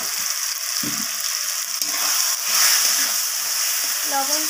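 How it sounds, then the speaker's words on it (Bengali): Chicken and capsicum sautéing in a pan, a close, steady sizzle with a few scraping stirs and a brief clatter. "ক্যাপসিকাম সব কিছুকে ভালোভাবে এইভাবে কষিয়ে নেব।"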